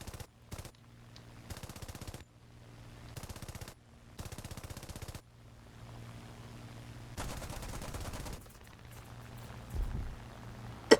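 Aircraft machine-gun fire in the War Thunder video game, several sharp rapid bursts of automatic shots separated by short gaps, with a longer burst near the end over a low engine drone.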